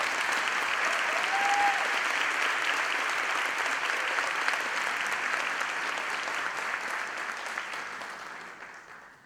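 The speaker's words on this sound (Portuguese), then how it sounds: "Uma salva de palmas para essa mesa de abertura fantástica, pessoal." A conference audience applauds the opening panel at an environmental impact congress opening ceremony, broad even clapping from a large crowd that holds steady and then fades out at the end.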